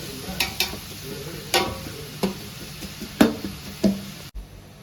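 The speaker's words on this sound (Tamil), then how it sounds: "வெங்காயம் வதங்கிக்கிட்டு இருக்குது" Chopped onions sautéing in a pan for Malaysian biryani, with a soft steady sizzle broken by repeated close scraping stirs of a spatula, then a sudden cut near the end.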